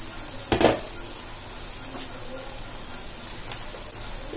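Kilimeen fish fries in oil in a pan with a soft, steady sizzle, broken by a couple of brief utensil clinks.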